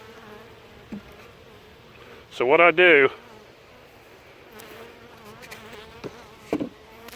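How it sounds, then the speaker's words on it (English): Wasps and bees buzz around a hive box on a mating nuc, with one loud, close, droning burst partway through and fainter intermittent buzzing before and after, under brief speech. "look at that wasp going down in there"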